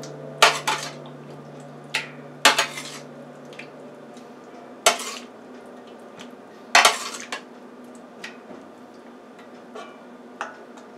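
Sweet potato slices are set into a pan in layers, with a series of sharp metal clinks and scraping utensil taps spaced irregularly over a low steady hum, with no talking.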